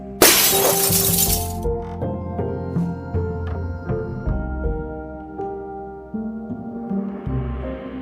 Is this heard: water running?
no